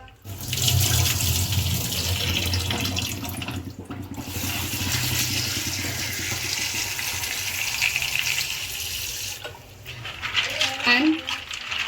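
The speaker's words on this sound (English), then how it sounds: "I am washing this pasta," Pasta rinsed in a bowl under a running kitchen tap: a steady, close rush of water that runs for most of the time, briefly dips, then returns with splashing.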